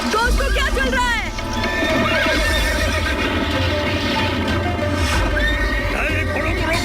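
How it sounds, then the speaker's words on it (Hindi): Horses neigh loudly and hooves clip-clop in an animated Disney Mulan scene, with shrill whinnies over a constant busy clatter while excited voices shout throughout. "अरे घोड़ों को रोको। ओए घोड़ों को रोको।"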